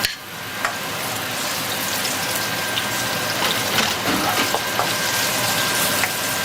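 Sliced galangal root hits a hot pan and sizzles steadily, a bright crackling hiss with scattered pops and faint scraping of stirring throughout, no talking.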